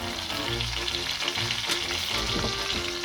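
Breaded beef Milanese cutlet frying in oil in a pan after being flipped, a dense continuous sizzle and crackle with faint clinks, close and steady.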